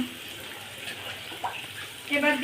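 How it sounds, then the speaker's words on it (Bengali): Water poured into a pan of spicy sweet-sour meat curry, a brief close splash and gush that rises at the end, over a low sizzle. "এবার দিয়ে দেবো একটু পরিমাণ মতো জল।"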